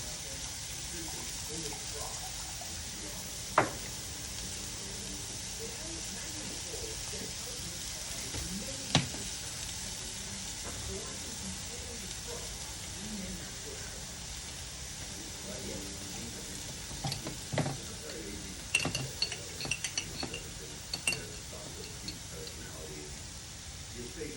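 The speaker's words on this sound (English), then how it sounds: "Go in with a little soy sauce." Chicken frying in a hot pan with a splash of soy sauce, a steady broad sizzle running throughout, with a few sharp clinks and scraping bursts of stirring near the end, over a quiet kitchen background.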